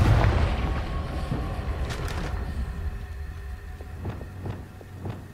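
Confringo fire spell explosions in Hogwarts Legacy: a heavy close boom at the start rolling into a rumbling tail, then a few sharper, lighter blasts later.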